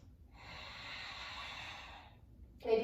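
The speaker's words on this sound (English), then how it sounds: "pressing the air out through the nostrils, creating a warm ha sound, audible breathing" Ujjayi breathing, with air pressed out through the nostrils as a long, soft, hushing exhale, followed by a short, sharper nasal burst at the end, close and with no talking.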